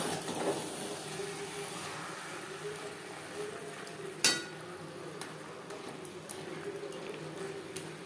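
Chicken bhuna sizzles in a pan as it is stirred with the lid lifted: a steady, soft frying hiss with one sharp clank of a utensil against the pan midway and light scraping.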